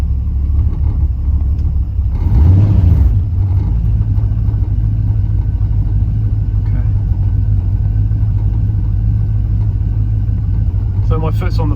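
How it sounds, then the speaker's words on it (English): An LS-swapped second-generation Firebird with a carburetor idles low, with a slight touch of throttle, producing a loud, steady, deep engine rumble throughout while someone talks over it. "Idle's very low."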